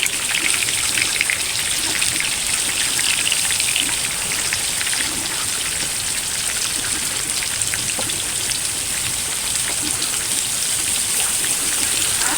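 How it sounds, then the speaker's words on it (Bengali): Pointed gourd (potol) frying in a hot pan, giving a steady, even sizzle and hiss that carries unbroken through the whole stretch, with no talking. "পটল সুন্দর করে ভেজে নিব।"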